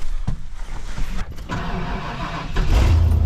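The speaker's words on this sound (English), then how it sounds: "Get this truck fired up." A Ford F250 pickup truck engine cranks briefly, catches and settles into a loud, close idle, rising again near the end.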